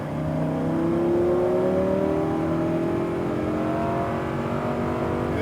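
A Lamborghini Huracan accelerating on a race track, the engine note rising steadily in a smooth, loud, continuous climb heard from inside the car.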